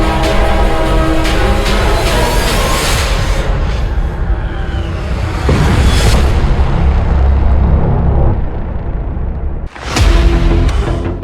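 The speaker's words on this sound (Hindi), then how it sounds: "मिसाइल टैंक की तरफ बहुत तेजी से बढ़ती है और इजराइल के मरकावा में बहुत बड़ा धमाका होता है" A huge, continuous roaring blast from a missile hitting a Merkava tank fills the clip, loud and heavy, with a sharp break and a second burst near the end.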